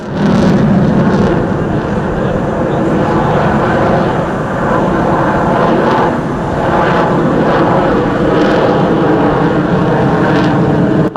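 Fifth-generation fighter jet with AL-41 engines and thrust vectoring nozzles at the Dubai Airshow, a loud sustained roar of jet engines that swells and holds steadily, rumbling and hissing throughout with no voices.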